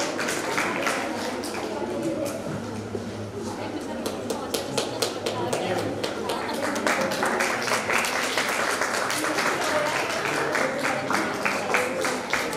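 Applause for students at a state science seminar in 2023, a steady wash of clapping from a seated audience lasting throughout, with a voice talking over it near the start.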